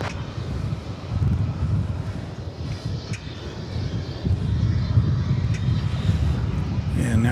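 An Airbus A321 jet departs DFW airport, a broad distant engine roar that swells gradually, mixed with wind buffeting on the microphone.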